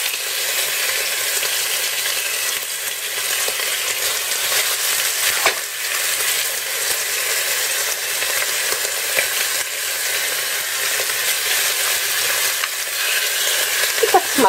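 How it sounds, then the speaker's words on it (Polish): Pork neck meatballs sizzle and crackle steadily in hot fat in a frying pan, a loud, continuous hiss with small pops and no talking. "I tak smażę wszystkie części tego mięsa."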